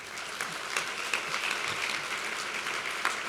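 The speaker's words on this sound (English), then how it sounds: "Hold your applause." Audience at an award ceremony claps in a dense, steady burst of applause that holds at an even level throughout, with no voices over it.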